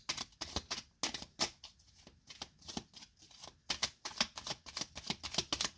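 Oracle cards being shuffled by hand in quick bursts of riffling and flicking, close and crisp with short pauses between runs, no talking.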